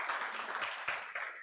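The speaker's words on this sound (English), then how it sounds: "A round of applause for this panel." A conference audience applauds a panel at a trade review event, a brief burst of scattered clapping at moderate distance, fairly faint.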